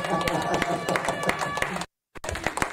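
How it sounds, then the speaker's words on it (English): A church congregation claps for Jesus during a sermon, a dense run of sharp claps with crowd noise and a voice over it, then a brief silence before the clapping resumes. "Clap for Jesus."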